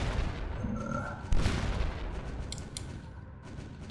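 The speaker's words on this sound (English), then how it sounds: "that was just the flak turrets at work" Flak turrets fire in the space game Starcom Nexus, a sharp boom followed by scattered muffled bursts over a rumbling background.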